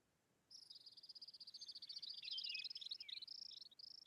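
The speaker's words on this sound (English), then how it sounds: "we start to get all of our little bird audio" Tropical North American bird ambience from the video game Prehistoric Kingdom: continuous high chirping and trilling calls layered over a soft steady bed, beginning abruptly after a short quiet lead-in.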